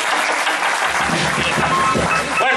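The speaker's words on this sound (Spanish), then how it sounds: "Fuerte, fuerte los aplausos para don Elmer Guardia" Loud, full applause at a patronal festival celebration, steady throughout, with a low rumble of voices or music underneath and a brief whistle-like tone near the end.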